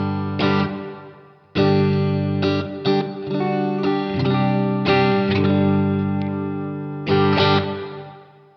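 An electric guitar plays chords through a Cornerstone Nucleo reverb pedal with the blend knob turned up for more wet signal, each strum ringing out into a washy tail, loud and clear with no talk.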